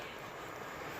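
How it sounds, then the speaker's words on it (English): An EasyJet Airbus A319 airliner flying over near a railway line in the evening, a faint, steady, distant jet engine roar with no voices. "We've got to have another plane flying over. That's going to be an EasyJet A319."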